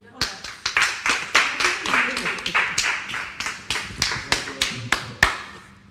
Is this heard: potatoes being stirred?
no